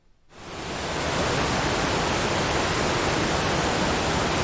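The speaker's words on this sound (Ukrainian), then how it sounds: "А давайте ми разом з вами послухаємо, як співає водоспад." A waterfall roars in, swelling up from near silence within a second into a steady, dense rushing hiss of falling water, loud and constant.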